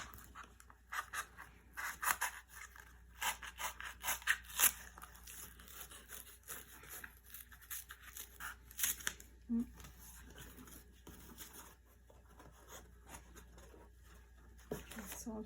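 Scissors cut through a cardboard box for a cardboard baby basket, giving repeated crisp snipping and crunching strokes in irregular bursts, close and fairly quiet, with rustling handling between cuts.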